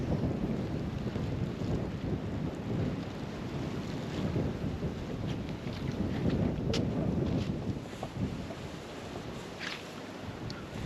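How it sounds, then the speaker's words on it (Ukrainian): Strong wind buffets the microphone continuously, a rough, gusty roar with occasional crackles and no voices. "трохи вітер дує."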